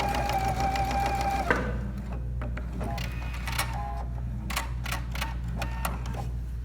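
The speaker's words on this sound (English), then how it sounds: "I'm just gonna sew on the edge" A Pfaff Performance Icon sewing machine stitches along the edge of a three-layer mock flat-felled seam, like on blue jeans, with a fast steady whir and then a run of sharp mechanical clicks and ticks, close and clear.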